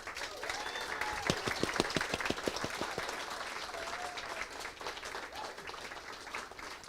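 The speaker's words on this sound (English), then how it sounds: "Big round of applause for all of our open micers for this evening." Audience applauding open mic poets at a poetry showcase closing party in Sheffield, a steady wash of many hands clapping with a few sharper claps standing out, fairly near and moderately loud throughout.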